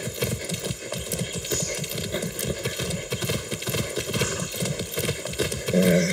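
Horse hooves clip-clop in a steady galloping rhythm in the video game Far Cry 6, loud and continuous with engine-like game ambience underneath.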